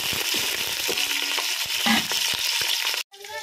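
Green chillies and onions fry in a pan of whole spices such as star anise and cloves, giving a close, continuous sizzle with scraping and crackling, ending in a sudden cut and a brief quieter tail.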